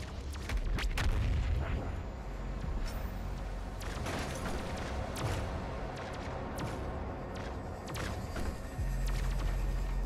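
BFG 10,000 firing in Doom Eternal on Nightmare difficulty: a dense, continuous barrage of heavy booming blasts and rumbling impacts, loud and sustained, with sharp cracks scattered throughout and a deep low-end swell near the end.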